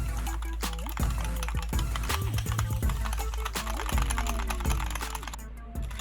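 Keys clack on a keyboard hooked up to an iPad through a USB hub, a quick irregular run of close clicks and taps at moderate volume over a faint electronic hum.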